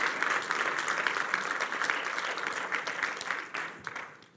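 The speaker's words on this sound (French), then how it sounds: "Est-ce qu'on peut applaudir notre Dieu?" A church congregation applauds with steady, dense clapping that fills the room and tapers slightly toward the end, with no voices over it.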